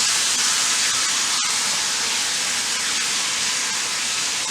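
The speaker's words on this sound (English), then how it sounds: "we're just going to sear them" Pork chops sear in a very hot pan over a high burner, producing a loud, steady, close-up hiss with one brief clack partway through.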